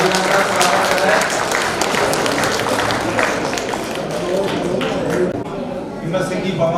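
Dense, continuous applause fills the hall at the prize ceremony of a memorial open chess tournament, a loud close wash of many hands with a voice speaking over it.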